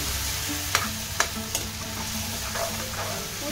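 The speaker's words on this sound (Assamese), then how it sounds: "পিয়াজখিনি মই অলপমান দি এনেকৈ ভাজি লম" Onions fry in a pan with a steady, close sizzle, broken by a few sharp clicks of stirring against the pan. No one speaks.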